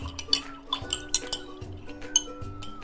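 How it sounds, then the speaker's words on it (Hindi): A spoon stirs thandai powder into a drink in a glass, clinking repeatedly against the sides in a quick, uneven rhythm, close and fairly soft, with no talking. "देन देंगे एक मिक्स"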